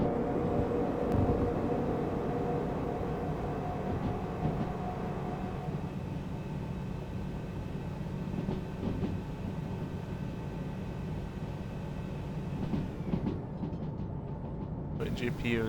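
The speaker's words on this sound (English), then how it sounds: "I should probably wait for my train to get out of the curves before I start speeding up." A train running on rails in the video game Derail Valley gives a continuous low rumble and mechanical drone, steady and fairly loud throughout, easing slightly toward the end.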